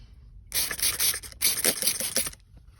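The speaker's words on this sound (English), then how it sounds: "Just gonna spray right underneath here." Two bursts of hissing spray, close up, each lasting under a second with a brief pause between, then quiet.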